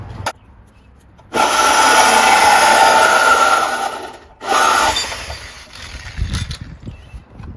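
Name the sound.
power tool cutting up a factory muffler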